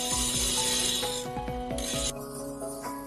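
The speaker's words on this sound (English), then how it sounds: "Then we polish the second and third layers according to the angles used during grinding." Gemstone facets being polished on a lap during rose cutting, giving a steady, loud rubbing rasp with a continuous mechanical hum and faint ticking, close and without talk.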